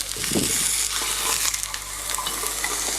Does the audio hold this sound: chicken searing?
yes